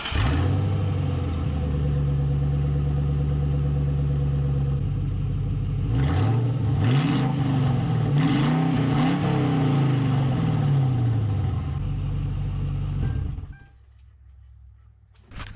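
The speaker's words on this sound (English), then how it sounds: "I got all the bolts tightened back up and the new H pipe installed, so time to do a startup" A Ford Crown Victoria V8 with a newly installed H-pipe exhaust, heard from the rear: a steady deep burbling idle, then several rising revs and a settle back to idle before shutting off.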